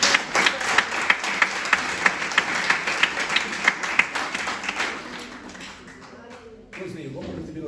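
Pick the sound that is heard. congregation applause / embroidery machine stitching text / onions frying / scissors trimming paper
congregation applause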